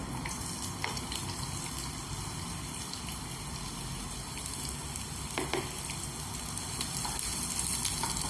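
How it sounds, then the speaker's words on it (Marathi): Vertically sliced onions frying in oil in a pan give a constant bright sizzle with occasional crackles and stirring scrapes, close and unbroken, without speech. "आता हे मी 2 कांदे घेतलेत उभे चिरून, हे आपण फ्राय करूया याच्यात"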